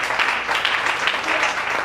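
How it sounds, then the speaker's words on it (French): Applause and cheering from a church congregation at a French-language evangelical service, a dense steady wash of clapping filling the room throughout, with faint voices mixed in. "vous allez applaudir et acclamer à l'honneur de son nom."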